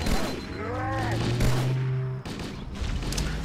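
Tactical grenade blasts in Halo Combat Evolved: a burst of explosive noise and gunfire-like cracks amid tonal game effects, with a sharp cutoff partway through and continued rumble after.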